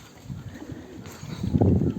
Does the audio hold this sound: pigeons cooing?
yes